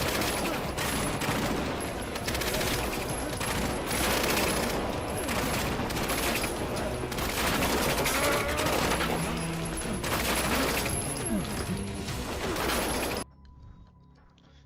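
Pistol gunfire in the Resident Evil video game rattles in dense, continuous volleys for about thirteen seconds, loud and close, before cutting to near silence.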